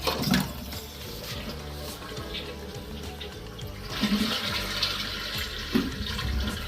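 Water flushing and draining down a pipe during a leak test beneath an apartment ceiling, a steady rushing gurgle with brief louder surges, fairly close and without talk.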